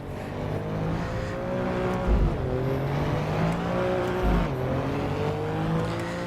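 Alfa Romeo Giulia GTA in the racing game Assetto Corsa Evo: a loud, steady engine drone rising in pitch through the revs, broken by two sharp upshifts with deep bassy thumps, no talking.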